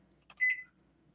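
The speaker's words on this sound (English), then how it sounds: "Okay, so set timer" An oven timer being set while making pizza pockets at home gives a couple of faint short chirps and then one clear electronic beep, close by in a quiet kitchen.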